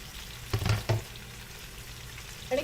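Chopped onion dropped into hot oil in a pan for a chicken curry, a brief burst of sizzling and clatter early on, then a low steady frying hiss with one more small stir near the end.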